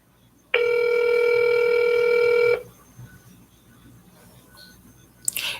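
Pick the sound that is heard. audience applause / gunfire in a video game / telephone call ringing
telephone call ringing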